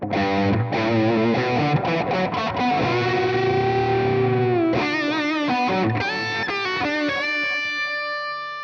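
A sustained, buzzy distorted electric guitar with DiMarzio pickups plays alone, with ringing held chords and harmonic overtones, then quicker picked notes near the end.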